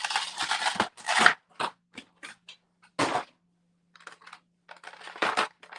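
Cardboard box holding a Mythic Legions Poxxus-wave action figure being opened by hand, with a run of sharp tearing and flap-pulling scrapes, then scattered crisp ticks and rustles close up, a second burst of ripping midway.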